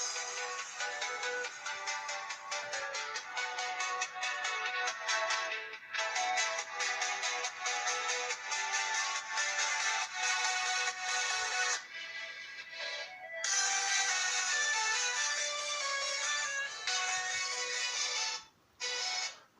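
A Leagoo Shark 5000 smartphone's built-in loudspeaker plays music at full volume, a steady tinny, thin sound with no low end, briefly dropping out twice near the end.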